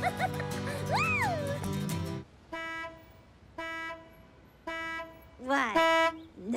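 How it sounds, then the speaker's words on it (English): Cartoon car horn honking in short repeated toots, three evenly spaced beeps after a burst of lively music and voices, followed by a bending, wobbly toot at the end. "How about we take a break from the honking and play some tunes?"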